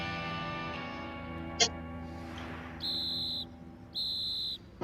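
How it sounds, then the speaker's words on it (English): A shark mating whistle is blown in two sustained, shrill blasts, each about a second long, clear and close. A low hum and a faint click run underneath, and no one speaks during it. "I swam in the water, so now I'm gonna blow the whistle."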